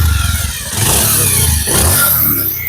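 A Bajaj Pulsar 150 motorcycle runs steadily after engine repair and oil-related cleaning, its close, loud exhaust idle thrumming with two brief swells of revving and no talking.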